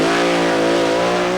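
Steve Reed's new American top alcohol drag racing car at Santa Pod in 1992, a loud, sustained engine roar with a steady harsh drone, close and overpowering throughout.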